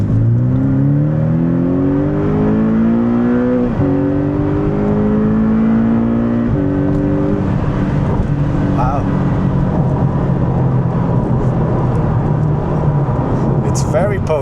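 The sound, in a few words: Porsche 718 Boxster GTS engine accelerating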